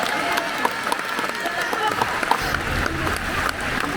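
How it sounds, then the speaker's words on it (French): An audience at a live comedy show in the Val d'Oise applauds together, a dense, steady patter of many hands with a few sharper claps, mixed with crowd noise and some talk. "les amis, applaudissez tous ensemble quand vous applaudissez"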